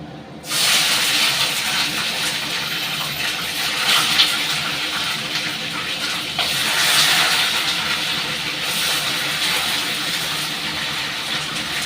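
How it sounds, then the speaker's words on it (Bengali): Cauliflower, potatoes, peas and tomatoes fry in oil with panch phoron, giving a loud, steady sizzle that starts abruptly and keeps going with small surges throughout. "এবার ফুলকপি, আলু, মটরশুঁটি, টমেটো এগুলো ভালো করে ভেজে নেবো লাল লাল করে।"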